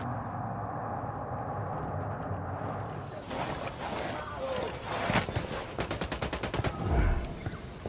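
Rapid bursts of gunfire in the tactical shooter game Ghost Recon Wildlands, a volley of sharp repeated shots building midway and peaking near the end over steady game ambience.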